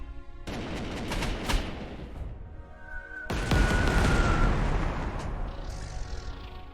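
Anti-aircraft guns fire in Corps 2, a heavy booming barrage that sounds in two loud bursts with dense rumbling between, heard with no talk over it.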